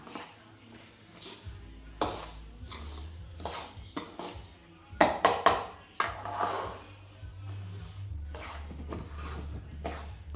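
Semolina roasting in ghee in a pan on a low gas flame for Maharashtrian laapshi, stirred with a spoon that scrapes and clinks against the metal in irregular strokes, a few sharper knocks in the middle, close and fairly quiet.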